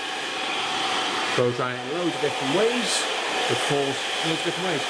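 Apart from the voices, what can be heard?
hair dryer blow drying hair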